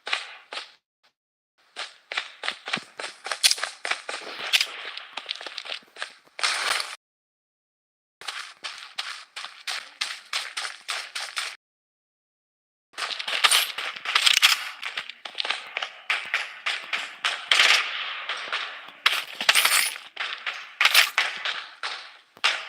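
Rapid bursts of gunfire in the mobile battle royale shooter Blood Strike, loud clattering strings of shots broken by short silent gaps, with no talk over them.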